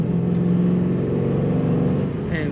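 A 2007 Ford Mustang GT coupe with a 5-speed manual pulls hard under acceleration, its engine a loud, steady, close-up roar with a rising rumble throughout and no talking.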